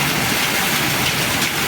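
Hail and rain pour down hard during a storm, a dense, steady broadband roar of falling ice and water hitting surfaces, continuous and loud throughout with no voices.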